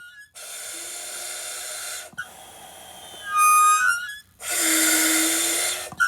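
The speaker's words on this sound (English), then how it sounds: "Let's listen to what a firefighter sounds like breathing and talking in their air mask." A firefighter breathes through an air mask, each long hissing inhale and exhale loud and close, with a short squeaky valve sound between breaths.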